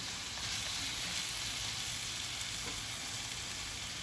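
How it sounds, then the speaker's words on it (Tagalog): Garlic, onion, ginger and tomato sautéing with chicken for kinamatisang manok, a steady close sizzle and crackle of frying in a pan with no talking. "Saka sila magigisa yung mga ingredients na ginisa natin kanilang mga nauna, like bawang, sibuyas, tapos luya at kamatis"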